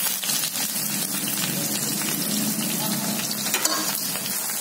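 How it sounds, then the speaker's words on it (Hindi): Cumin seeds and onions sizzle steadily in hot oil in a home kitchen, a loud continuous frying hiss with faint stirring clatter, no voices. "अब हमारा तेल गर्म हो चुका है, अब हम इसमें जीरा डालेंगे। अब हम इसमें प्याज डालेंगे"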